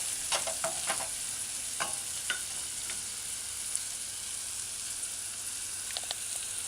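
Seasonings sautéing on low heat in a saucepan for a shrimp and snow pea stir-fry give a quiet, steady sizzle with a few scattered faint clicks and stirring scrapes.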